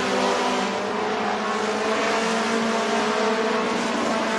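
Race cars roar around Duck River Raceway Park, a dense, sustained engine drone from several cars at a distance, steady and loud without pause.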